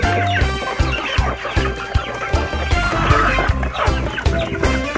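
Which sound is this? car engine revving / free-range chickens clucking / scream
free-range chickens clucking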